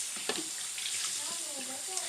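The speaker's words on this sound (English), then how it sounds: "this water is pretty much warm now" Warm water running from a sink tap, a steady hiss and splash close by, with someone speaking softly over the flow.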